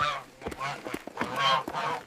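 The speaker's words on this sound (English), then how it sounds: "A flock of geese came running to greet the old woman." Several geese honk loudly in overlapping calls, a nearby flock sounding off in quick succession with short, harsh bursts and no voices.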